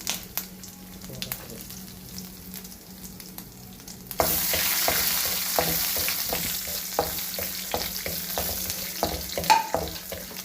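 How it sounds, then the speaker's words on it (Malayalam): Fennel seeds and coconut pieces drop into hot coconut oil, setting off a loud, steady sizzle up close with scattered crackles and pops after a quieter start. "എണ്ണ ചൂടായി കഴിയുമ്പോൾ നമുക്ക് കുറച്ച് പെരുംജീരകം ഇട്ട് കൊടുക്കാം"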